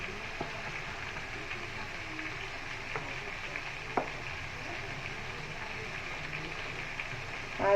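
Food fries in white oil while biryani is cooked, making a steady close sizzle throughout with a few faint clinks and taps over it and no talking.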